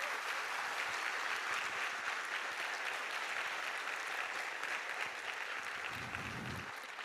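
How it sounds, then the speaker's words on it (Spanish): Audience applause fills a professional theatre at a school cultural night, dense and sustained clapping from a large crowd that continues throughout and softens slightly near the end. "Un aplauso fuerte,"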